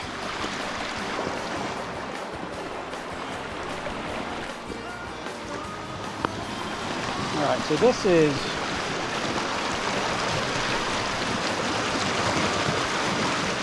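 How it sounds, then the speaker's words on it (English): Fast, knee-deep brown river water rushes steadily around a log on a wild nature trail, a constant close broadband roar, with someone speaking briefly over it. "There's still just a ton of water moving through here."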